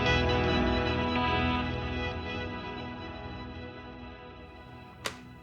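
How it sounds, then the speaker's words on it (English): Guitar run through a Plex Shift pitch-shifting delay block on a Fractal Axe-FX III, a dense shimmering wash of pitched repeats that slowly fades over several seconds, with a short sharp click near the end. "delay and pitch all happening at the same time"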